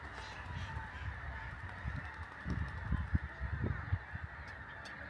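A flock of geese flies over near a lake and marshes, honking in a loose, overlapping chorus that rises and falls at moderate distance over outdoor background noise and low wind rumble.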